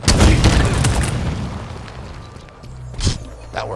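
Grenade blast in Halo Infinite multiplayer: a loud, deep boom with rumbling debris that fades over a few seconds, followed by a smaller thump and a faint pop.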